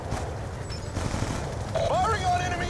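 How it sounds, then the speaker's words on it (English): Gunfire aimed at enemy ASD drones in the Black Ops 2 video game, a steady dense crackle of shots running through the whole stretch, with whooping synthetic tones and voices partly laid over it. "Firing on enemy ASDs!"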